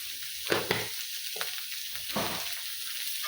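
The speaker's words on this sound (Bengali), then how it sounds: "এগুলো একটু হালকা করে ভেজে নেব" Vegetables for vegetable soup fry lightly in a pan, giving a soft, steady sizzle with a few louder bursts as they are stirred, close by and fairly quiet, with no voices.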